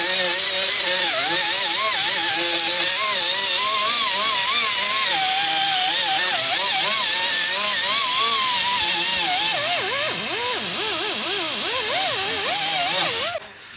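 A power sander grinding the rust off a rotted truck rocker panel gives a loud, continuous whine whose pitch wavers and wobbles under load, then cuts off abruptly at the end.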